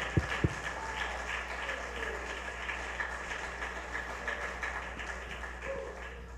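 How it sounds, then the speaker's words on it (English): Hands clapping from a church congregation during a sermon, a steady patter of many clappers kept up throughout, with a low hum beneath and a couple of sharp knocks near the start. "if you believe that, clap your hands"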